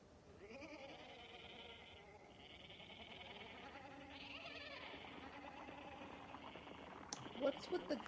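Goat bleating, a series of faint, drawn-out wavering bleats over a low background hum, followed by a few brief clicks and knocks near the end.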